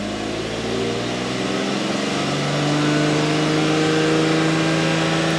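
A 2004 Lexus IS 300, which has a P0430 code and rich and lean fuel trims, sits with its engine held at a steady 2000 RPM. The close, loud hum stays even, with a slight rise partway through.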